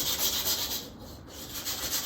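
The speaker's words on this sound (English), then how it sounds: "I'm going to sand them up a little first" Steady hand sanding of guitar parts, a continuous abrasive rub with gentle back-and-forth strokes, close up and moderately loud, no voices.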